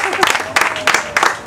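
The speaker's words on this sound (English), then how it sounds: "Everybody clap." Applause from a small group at an outdoor spring graduation BBQ, uneven bursts of clapping in waves with voices talking and calling out over it.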